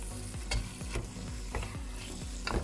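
Pork ribs with their juices, for a dish of ribs in a special sauce, are stirred while frying in a pan: a continuous close sizzle under repeated rhythmic scraping strokes of the utensil.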